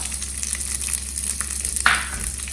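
Peanuts, cashew nuts and curry leaves sauté in a pan over a low flame for lemon rice, giving a steady soft sizzle with a brief louder crackle near the end.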